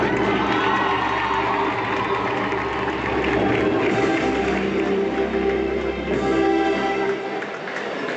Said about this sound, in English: Can we appreciate our girls with a clap?